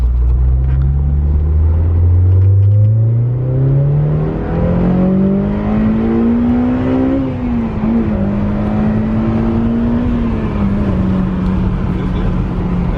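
Honda S2000 sports car on a test pull, its engine note rising steadily as it accelerates, then holding a loud, even drone inside the cabin with a brief dip as the revs settle.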